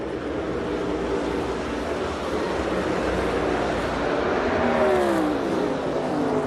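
NASCAR race cars on the oval at the Brickyard 400, a steady loud roar of engines with a rising, sweeping whine near the end as cars pass, no voices.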